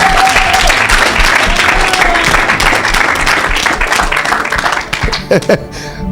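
A church or revival crowd bursts into loud, sustained applause and cheering that fills the space, then thins out and fades toward the end.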